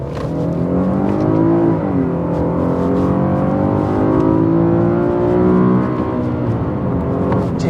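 The naturally aspirated engine of a Honda Accord Euro revs hard to nearly 8,000 RPM, a loud, continuous high-pitched wail that climbs, dips and climbs again, heard up close with no talking.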